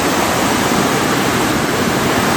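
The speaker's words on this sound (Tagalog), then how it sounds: "Okay, so ito po yung ilog nila dito sa may Gojo" River water at Gojo, Japan rushes in a loud, dense, continuous broadband roar, close by and steady with no pauses and no voices.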